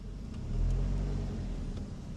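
A car reversing slowly during a driving test manoeuvre, a steady low engine rumble at idle-level revs with a slight swell, close and continuous, no voices.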